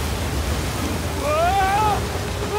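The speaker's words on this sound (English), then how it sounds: "Waterfall!" A waterfall rushes in the video game Uncharted 4 as a continuous broadband roar under the scene, while a brief whistling, wavering tone rises over it midway through.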